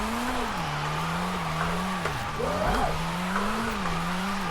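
A light, roughly 300-horsepower car in Forza Horizon 5 after a clutch kick, its engine droning at high revs with a continuous tire squeal and wheelspin, loud and close with no talk.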